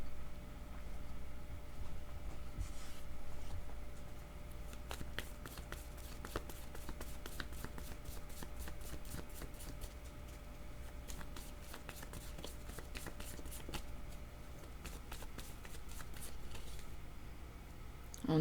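Tarot cards shuffled by hand in a steady run of crisp riffling ticks and flutters, close and fairly quiet over a low background hum, with no voice.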